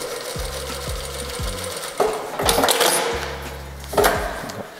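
A JACK A8 industrial sewing machine stitching synthetic material, its needle running in rapid mechanical bursts with short pauses, close and clear, with occasional clunks and knocks between runs.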